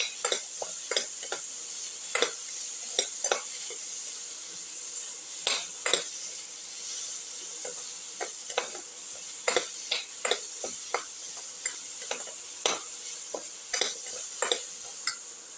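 Ginger sautéing in a pan for a cucumber potato casserole, with a steady sizzle beneath repeated sharp scraping clicks of a utensil stirring against the pan, close and fairly loud.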